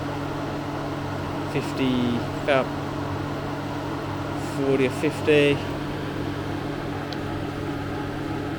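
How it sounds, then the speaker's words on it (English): Engine bay cooling fans on a Jaguar XJ-S V12 run with a steady, close broadband whir and hum while someone speaks briefly over them. "It's pretty warm under here, hence the fans going."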